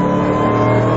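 A Ford Mustang Roush 427R Trak Pak with a 4.6-liter V8 is driven hard on a track, its engine a loud, steady, close roar with no gaps.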